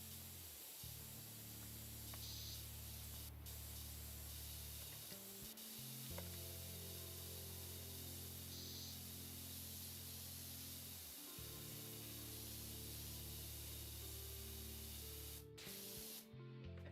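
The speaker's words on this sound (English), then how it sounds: "I'm just gonna spray along all of the edges here." Spraying along the edges of walls in an office building in a video game, a long steady hiss with a few brief pauses, loud and close with no talk over it.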